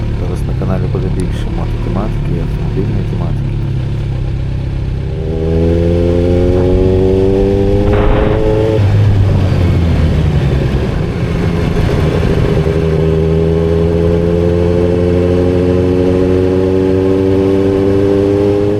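A Kawasaki Z900 motorcycle engine runs loudly, its pitch climbing in several rising revs and gear changes, with a rider talking over the noise.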